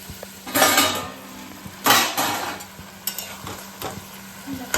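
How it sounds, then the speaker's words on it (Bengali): Metal pan lid clatters onto a cooking pan of spiced banana-flower curry, with a few separate clanks and scrapes standing out loud and close above a soft sizzle. "আমি একটা চাপা দিয়ে তিন চার মিনিট একটু হতে দেবো"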